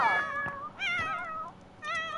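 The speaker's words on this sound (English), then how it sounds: "Guys, that's Smokey you can hear, okay? That's the cat." Smokey, a pet cat, lets out a series of clear, fairly close meows: a quick first cry, then a longer drawn-out one and a short third call, with quiet room background in between.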